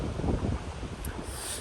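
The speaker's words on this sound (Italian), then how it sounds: "c'è molto vento" Strong wind buffets the microphone on an exposed grassy hilltop near a clifftop in Galicia, a steady loud rumbling roar with gusty swells throughout and no voices.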